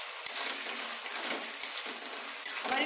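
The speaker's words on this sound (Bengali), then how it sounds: "আবার একটু ভাজতে হবে" Onion and tomato paste fry over a very low gas flame in a wok, a steady soft sizzle and crackle with small pops, quiet and close, no voices.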